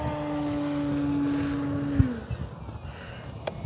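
An E-flite Carbon-Z T-28 RC airplane, 2.0 m span, on its maiden flight. A steady electric motor drone holds for two seconds, then pitches down and fades away, followed by quieter outdoor noise and a thump.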